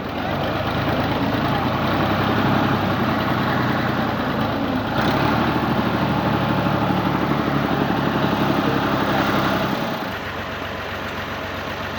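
Alghazi tractor stuck on its front side, its engine idling in a steady, loud, continuous rumble that shifts slightly in pitch partway through, with occasional voices mixed in.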